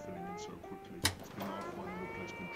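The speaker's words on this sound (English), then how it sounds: "That's a literal cat." In a night bus horror game, a cat meows several times, close by, with a sharp bright burst near the middle. A person talks over it throughout.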